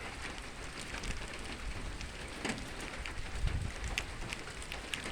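Soft, steady patter of light early-morning rain with occasional faint drips, quiet and continuous, no voices.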